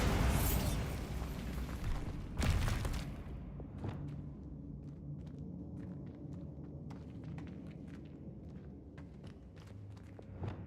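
A Bombarda blasting spell in Hogwarts Legacy goes off as a loud, roaring explosion, with a second burst a couple of seconds later; afterward the rumble fades into quieter scattered clicks and footsteps.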